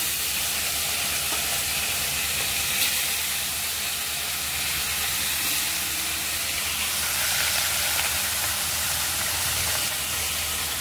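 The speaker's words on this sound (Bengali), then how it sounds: "তো এই মাছটা এবার ভাজবো, টেনে মাছগুলোকে ছাড়ি একটা একটা করে।" Fish pieces frying in a hot pan of oil for home-cooked biryani and chicken chaap, giving a steady, close, continuous sizzle and crackle with no talking.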